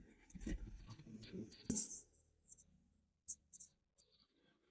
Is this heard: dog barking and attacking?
no